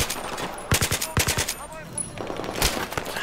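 Enemy gunfire in the video game Battlefield 3, with sharp bursts of several shots in quick succession, loud and close, separated by short pauses over a steady background din.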